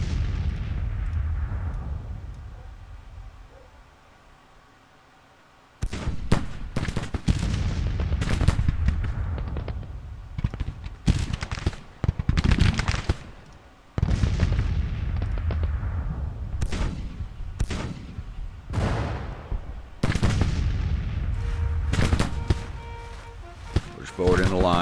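Volleys of musket fire and booming artillery from a Civil War battle at Winchester ring out in repeated sharp bursts, dense and layered. Before them comes a quiet lull, then the firing runs steadily throughout.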